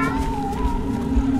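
Cat creatures in the horror zoo video game Zoonomaly give a drawn-out, eerie, wavering meow that fills the moment, thick and droning over a low rumbling game backdrop.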